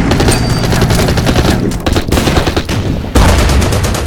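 Rapid bursts of gunfire and machine-gun fire from units attacking in the strategy video game Order of Battle: Burma Road, loud and dense, with several cracking volleys in quick succession.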